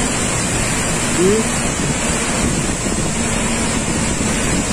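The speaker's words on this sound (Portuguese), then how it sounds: "aqui em Tombos, na base da Cachoeira de Tombos, aqui na usina, a força das águas" The Tombos waterfall in Minas Gerais roars steadily at its base beside a hydroelectric plant, a dense, unbroken wash of spray and pounding water close to the microphone, with a voice speaking over it.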